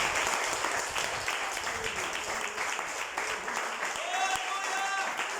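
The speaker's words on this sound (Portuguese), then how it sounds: "Podem aplaudir ao Senhor Jesus." A church congregation bursts into sustained applause, dense clapping from many hands filling the room evenly throughout, with voices cheering faintly underneath.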